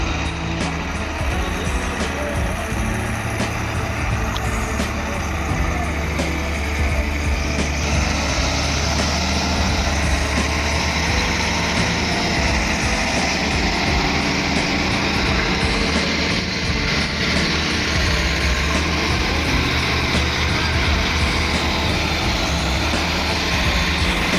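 A railway track maintenance machine moves along a main line during sleeper replacement, giving a steady, loud, heavy mechanical rumble with engine drone throughout and no talk.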